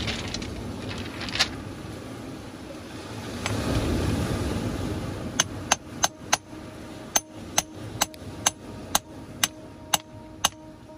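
A hammer taps on coastal rock while fossil hunting, about a dozen times in a steady, sharp rhythm, following a stretch of wind and sea surf noise outdoors.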